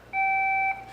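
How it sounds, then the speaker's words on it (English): An answering machine gives a single steady electronic beep, loud and close, holding for about half a second with no voices over it. "Leave a message after the beep."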